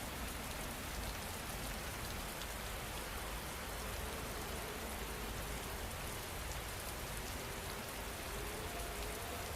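Steady rain falls on a surface as a dense, even hiss with no breaks, faint and uniform throughout, with no voices.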